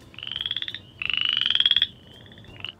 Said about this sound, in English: You might be hearing something more along the lines of a chorus frog that sounds like this.